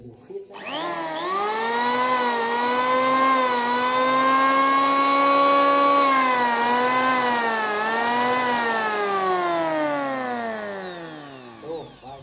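A repaired electric wood planer spins up to a loud, steady high-pitched whine, runs for several seconds with slight pitch wavers, then winds down at the end.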